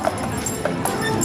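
Horse hooves clip-clop in a few sparse, light knocks over a steady background murmur, fairly faint and somewhat distant.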